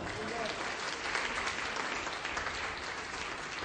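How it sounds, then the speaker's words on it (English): A church audience applauds steadily throughout, a dense continuous clatter of many hands at moderate distance, ending with a sudden loud thump. "Do we give him a round of applause right now?"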